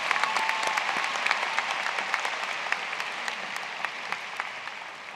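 Sustained applause from a high school graduation crowd, a broad even patter of many hands heard from some distance in a large space, holding steady and easing off slightly toward the end.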